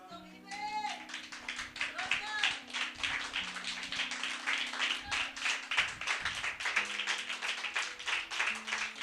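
A church congregation applauds in a sustained ripple of claps that runs the whole time, mixed with scattered voices and a background musical drone.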